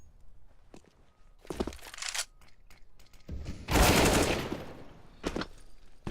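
Counter-Strike rifle fire on the map Train, with several sharp bursts of gunshots separated by quiet gaps and one longer, louder volley near the middle.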